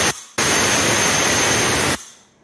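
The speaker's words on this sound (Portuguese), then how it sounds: "Vai jogar ar comprimido na escape" Compressed air blasted into the exhaust of a 2019 Chevrolet Onix engine with cylinder faults after a wrong timing belt swap: a short burst, then a loud, steady hiss lasting over a second that cuts off abruptly.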